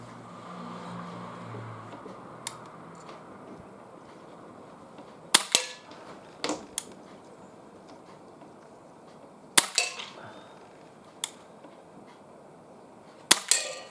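An Umarex Walther CP99 air pistol fires pellets outdoors at cans 20 metres away: several sharp, separate cracks spaced a few seconds apart over a quiet background, with no talk.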